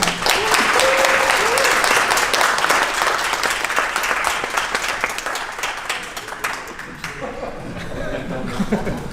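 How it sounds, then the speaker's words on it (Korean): An audience at a Kia press event applauds as tennis legend Rafael Nadal, Kia's global ambassador, is welcomed, with dense, loud clapping that gradually thins and fades, a little laughter, and a voice coming in near the end. "박수 한번 보내주시죠."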